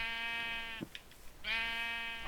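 A sheep in a video game gives two drawn-out, nasal bleats separated by a brief pause. The bleats are clear and close but fairly quiet.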